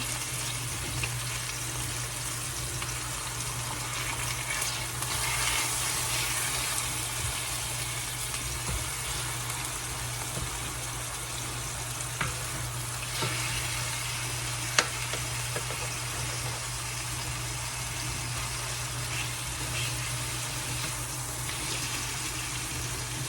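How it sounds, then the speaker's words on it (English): Chicken pieces for a creamy Tuscan chicken dish sizzling in a skillet, a steady, loud, even hiss of frying that runs throughout, with a faint low hum underneath and an occasional small tap. "I'm just gonna space these out on the skillet so they can all cook evenly"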